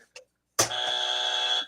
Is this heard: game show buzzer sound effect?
yes